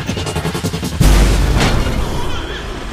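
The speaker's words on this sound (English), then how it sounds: "Let's try the Logic Bomb." A Logic Bomb goes off in the combat of the video game Remember Me, a loud, heavy boom with a deep rumble that hits abruptly after a brief buzzing lead-in and then tails off over a couple of seconds.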